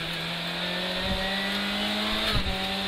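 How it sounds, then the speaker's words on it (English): A 1984 Lancia 037 Group B Evo 2 rally car accelerates hard through second and third gear toward a chicane, its engine note loud and steady with sharp transients at each shift, no talk over it. "Second gear, third gear, through the first chicane."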